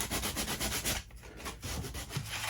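A wooden instrument body is hand-sanded smooth in a run of rapid, rhythmic rubbing strokes, with a short pause before the scratchy sanding resumes, close and moderately loud.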